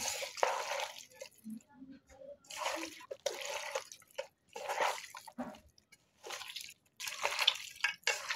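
Fresh raw beef being kneaded by hand with chili powder, spices and soybean oil, giving wet squelching, slapping bursts in irregular close bunches separated by short silent gaps, with no talking.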